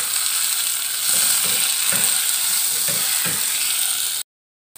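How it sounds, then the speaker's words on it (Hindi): Char magaz, four kinds of melon seeds, fry in a little ghee with a continuous close sizzle. Soft stirring scrapes recur through the frying, and the sound cuts off abruptly just before the end. "अब मैं इसमें चारों मगज फ्राई कर रही हूँ।"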